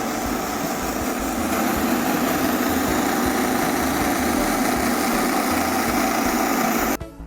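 A floor cutting machine with rotating cutting wheels runs steadily on a floor being prepared for PU flooring, giving a loud continuous engine-like drone that cuts off abruptly near the end.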